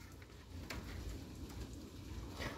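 Heavy rain pours down during a thunderstorm at a power outage, a steady broadband wash with scattered sharper drop hits, continuous and fairly close, with no talking.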